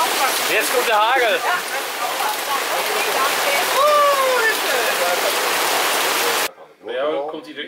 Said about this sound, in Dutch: Jetzt kommt der Hagel.